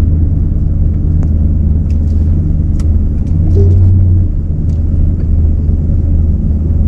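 A steady low engine rumble from a car creeping slowly in reverse without the accelerator, idling along without revving, with faint clicks and small noises over the drone.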